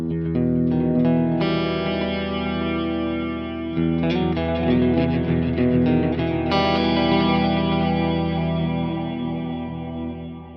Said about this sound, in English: And we'll hear just the multi-delay.